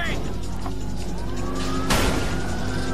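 Police car sirens wail and rise over engine roar in a high-speed chase in the video game Watch Dogs, with a crash-like burst midway. Someone talks excitedly over it.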